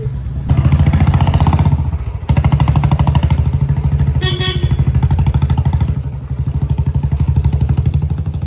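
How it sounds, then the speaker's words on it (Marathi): A motorcycle fitted with a straight-through direct silencer exhaust runs close by with a loud, rapid popping putter and short breaks in its firing. "सायलेन्सर बोलते"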